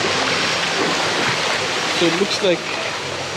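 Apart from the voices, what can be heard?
waterfall at Sungai Pisang, Malaysia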